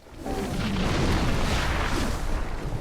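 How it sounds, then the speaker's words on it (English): Explosion in Dark Souls: Remastered, a loud, close, rumbling boom that swells quickly and sustains for a couple of seconds before trailing off. "I'm definitely rolling when the explosion is happening"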